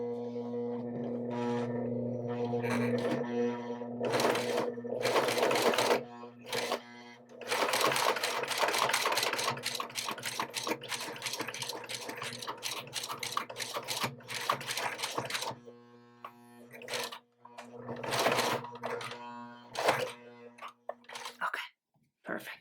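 Sewing machine forcing its needle through thick denim jeans during a waist alteration, running in several uneven bursts with pauses between them, close and clear, and a person talking at times in between.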